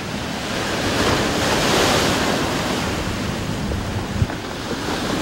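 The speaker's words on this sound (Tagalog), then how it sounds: "Ang asawa niyang si Pancho, di alintana ang malalaking alon sa paghahanap ng basurang may bebenta pa." Broad roaring wash of large ocean waves on Manila Bay after stormy weather, continuous and fairly loud, with wind rushing over the microphone and no voices.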